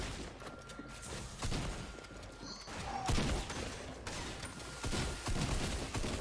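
Shotgun blasts in the video game Fortnite, several sharp bursts spread across a busy, noisy stretch of gameplay with fairly constant background sound.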